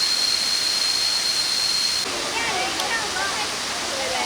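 Kuang Si Falls roars as a broad, steady rush of falling water seen from an elevated spot near its top, loud and continuous with no break.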